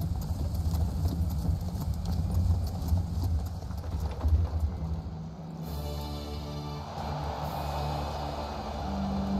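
In the video game Shadow of Rome, horses gallop with steady, rapid hoof clip-clops under a dense wash of game noise, and the background shifts partway through.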